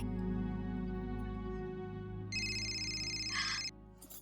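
A bright electronic ringtone starts partway through and rings steadily for about a second and a half over a low background hum, then cuts off.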